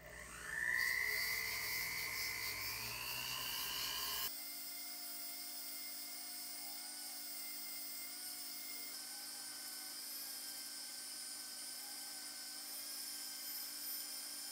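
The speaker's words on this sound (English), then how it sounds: "I am just going to use this little bristle brush that I have on the back of my rotary tool" A small bristle brush spinning on a rotary tool goes over a deep-engraved metal coin, giving a loud, steady high-pitched whirring whine. It rises at the start, then settles to a constant drone for the rest.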